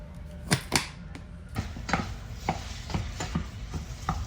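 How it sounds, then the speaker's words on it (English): A series of sharp, irregular tapping and scraping strikes as a meat masher breaks up ground turkey in a pan, with faint sizzling underneath. "right now I'm just chopping up my ground turkey with my meat stomper"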